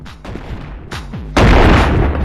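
Shotgun blasts in the video game Animal Company: two booming shots a moment apart, then a third louder blast that rolls into a sustained, roaring noise, close and loud.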